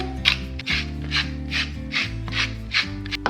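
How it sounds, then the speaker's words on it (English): A hand grinder cranks salt and pepper over a chuck roast in a slow cooker, its close ratcheting rasp coming in about seven even bursts with no talking. "on top of that, we're just going to add a little bit of salt and pepper"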